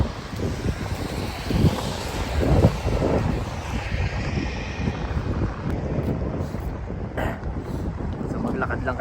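Strong wind rushes and buffets the microphone outdoors on a hill while someone walks, a broad steady roar with gusts swelling and easing throughout.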